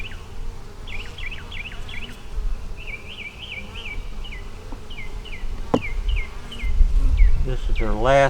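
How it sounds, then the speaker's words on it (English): Honeybees hum steadily around an open hive of a small new split with only four frames, a low continuous drone with a few close fly-bys, while birds chirp repeatedly in the background. "They don't have many bees in there."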